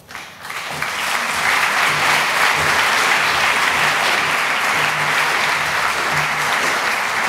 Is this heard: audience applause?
yes